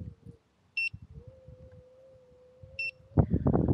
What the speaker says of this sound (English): we're beeping at 3 miles an hour.